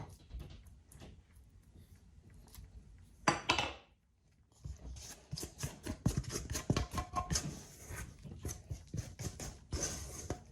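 Bread dough for pain au levain is turned out onto a wooden board, giving a burst of scraping and knocking, a short pause, then a run of sharp taps and clatters close by.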